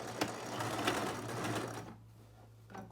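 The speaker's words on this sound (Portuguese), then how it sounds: "já vou costurar também o outro lado" Close and loud, a sewing machine whirs along stitching the other side of a kitchen fabric piece, then stops abruptly near the end, leaving a quieter background hum and a brief faint tap.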